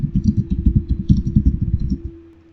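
Typing on a computer keyboard while entering text into an online logo maker, with a rapid run of close, clacky keystrokes that slows and stops near the end.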